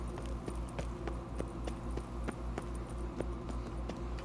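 Horse hooves from The Witcher 3, played on the PS5 update, clip-clop in a steady trotting rhythm. The hoofbeats sound close and even over a low continuous hum.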